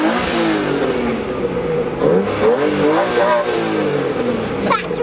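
Mercedes-AMG engine revved in short bursts: loud, close throttle blips rising and falling over a rumbling idle, with a voice briefly heard near the end.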